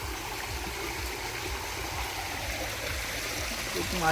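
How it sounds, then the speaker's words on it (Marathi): After the first monsoon rain in Konkan, a stream rushes steadily close by, a continuous loud gushing and gurgling of water with no talk. "कसला पाणी सुटला बघा जबजबान"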